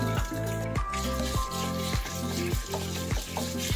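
Shrimp dropped into a wok with a little olive oil, sizzling and frying loudly up close, with rhythmic scraping or stirring strokes roughly every half second.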